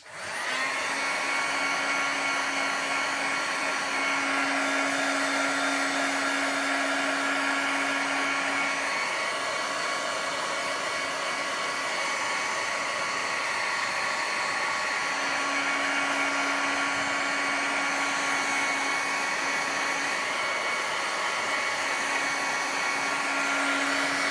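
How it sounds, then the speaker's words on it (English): A heat tool blows hot air to dry craft paint on a galaxy-style background, a loud, steady whooshing drone with a faint whine that runs without a break, with no talk. "I'm going to just hit this with the heat tool again, so turn your volume down if you need to."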